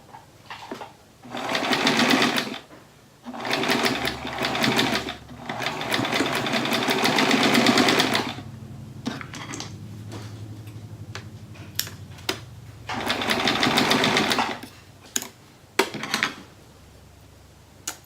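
Bursts of a sewing machine stitching across a quilt seam, several short runs separated by pauses, with light clicks and fabric handling in between, close and fairly loud.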